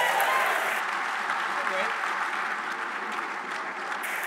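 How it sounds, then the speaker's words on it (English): Crowd applause at a live pinball awards event, a broad continuous wash of clapping mixed with general crowd noise and indistinct voices, fairly loud throughout. "So can we give Nate Shivers a round of applause?"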